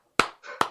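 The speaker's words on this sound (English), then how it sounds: "Give you a few claps." Two sharp, close hand claps about half a second apart, with a brief softer rustle between them.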